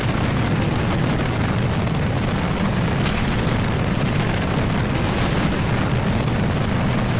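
Mod-added BDA guns on a Kerbal Space Program craft pour out a dense, unbroken roar of heavy firing, a loud saturated rumble of rapid booms that holds steady for the whole stretch without pause.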